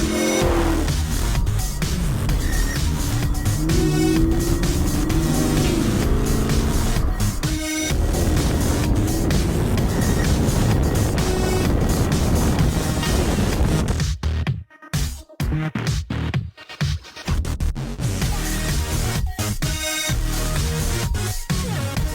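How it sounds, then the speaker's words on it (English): A 2021 Chevrolet Camaro SS drives from the cabin, its engine and exhaust a steady, loud drone with rising and falling revs, a few sharp pops and crackles, and brief drops out near the middle. "a POV drive of the 2021 Camaro SS"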